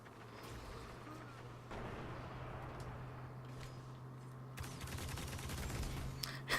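Rapid automatic weapon fire from the Righteous VII in Destiny: Rise of Iron, bursts crackling in quick succession over game ambience, growing denser and louder toward the end.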